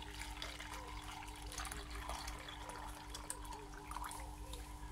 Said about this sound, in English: Fill it and then just fill it with normal tap water.